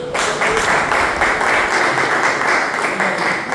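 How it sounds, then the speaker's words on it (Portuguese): A congregation at a church gathering claps for Jesus, dense continuous applause with a faint rhythmic pulse, loud and close with a murmur of voices underneath. "Palmas para Jesus."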